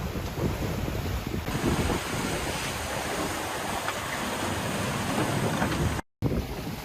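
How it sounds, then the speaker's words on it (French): Strong wind of around 30 knots and a building sea aboard a Pogo 30 racing sailboat, a steady loud roar of gusting wind buffeting the microphone over rushing surf and waves, unbroken except for a brief dropout near the end. "Et on a beaucoup de vent. Ça monte à 30 nœuds. La mer est assez formée."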